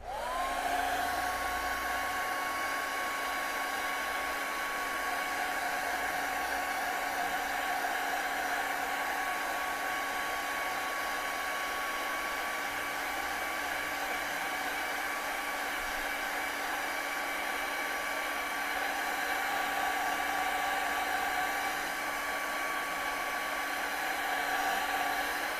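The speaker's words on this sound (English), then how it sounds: "Let's just blow dry that." A hair dryer blows steadily for the whole stretch to dry acrylic paint on a canvas, a loud, continuous whooshing hum with a constant whine that never lets up.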